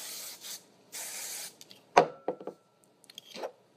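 Short hissing bursts from an aerosol spray can, two brief sprays followed by quieter rubbing and handling sounds, close and fairly faint in a quiet room.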